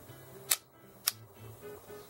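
Shutter release of a Zeiss Ikon Ikonta 522/24 35mm camera, heard as two crisp mechanical clicks about half a second apart, close up and quiet against faint background hiss.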